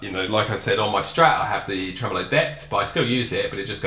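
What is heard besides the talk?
No everyday noise stands out behind the speech.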